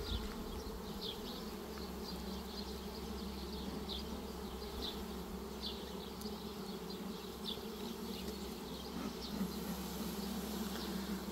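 Honeybees buzzing at an opened hive frame, a continuous drone with individual bees zipping close by in brief passes, steady and fairly quiet throughout.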